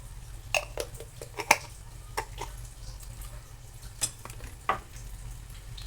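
Steady sizzling and crackling of tilapia frying in hot oil, with scattered sharp pops and spits over a low background hum.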